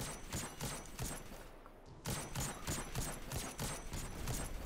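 In the Destiny 2 video game, a tank fires a steady rhythmic volley of heavy booming shots over dense, noisy battle ambience. The bursts repeat about twice a second, with one brief gap.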